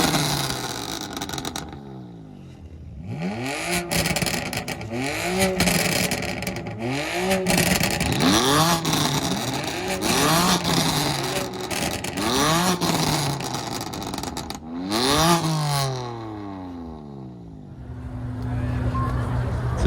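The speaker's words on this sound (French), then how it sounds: "On va avoir droit à une petite Revs Battle." Supercar engines revving in turn at a supercar gathering, repeated sharp rising and falling revs blasting loud and close, one after another with brief pauses, ending in a lower idle.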